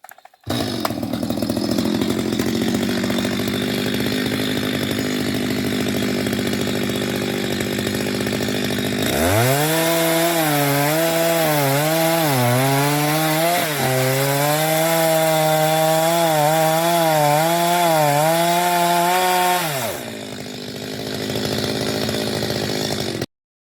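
Chainsaw felling a leaning tree, steady idle-like drone at first, then the engine revs hard into the cut for about ten seconds with wavering pitch as the bar binds, before dropping back to idle, loud and close.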